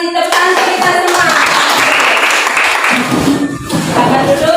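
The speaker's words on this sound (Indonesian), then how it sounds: "Tepuk tangan kita semua." A group applauds in a dense, sustained burst of close hand clapping, with voices chanting and calling out over it.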